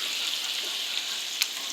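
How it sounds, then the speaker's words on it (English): Bacon frying in a pan, a steady soft sizzle and crackle running throughout at close range, with one brief sharper pop near the end. "Frying up that bacon."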